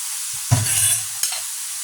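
Sautéed shrimp paste (alamang) is stirred in a pan, giving a short close sizzle with two quick spatula strokes over a brief burst of frying hiss.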